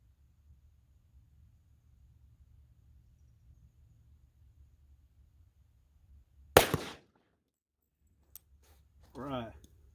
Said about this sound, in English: Looks like we got a first shot, so let's hope we got a dead center hit.